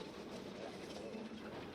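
A passenger train rolls along, heard from inside the carriage as a steady, faint rumble and hum with no clear voices.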